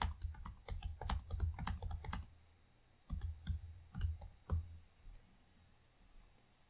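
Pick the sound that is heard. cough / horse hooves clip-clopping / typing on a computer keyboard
typing on a computer keyboard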